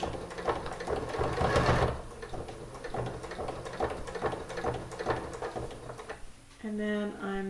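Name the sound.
sewing machine back stitching beside a corset busk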